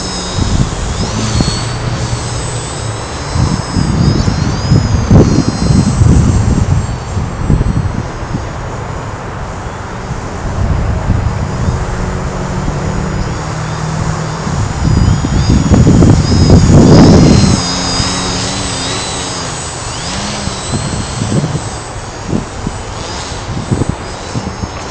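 Yak 3D EPP foam RC model airplane flying with its electric motor droning and whining continuously, the pitch rising and falling as it maneuvers, with louder surges around the middle and near the end.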